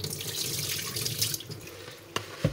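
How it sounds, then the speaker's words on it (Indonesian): Mung beans are washed under a running tap, a steady close stream of water splashing into a bowl with a couple of small clinks near the end. "Seringkali kalau kacang hijaunya nggak bersih pada waktu dicuci begini, airnya kotor sekali."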